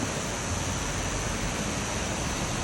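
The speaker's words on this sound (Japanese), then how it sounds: "おしんこしんの滝" Constant dense roar of the Oshinkoshin waterfall in Hokkaido heard up close, a steady wash of falling water with no breaks and no voices.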